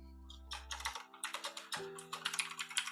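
Rapid typing on a computer keyboard while a note is written, with irregular bursts of quick clicky keystrokes and brief pauses, close and fairly quiet over a low steady hum, with no talking.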